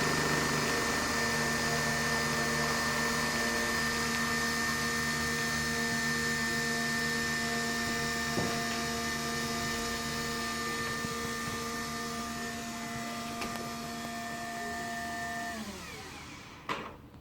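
A Nespresso coffee machine brewing a double espresso, making a loud, steady pump hum and whine with stable tones that runs for about fifteen seconds, then winds down and stops with a faint clunk.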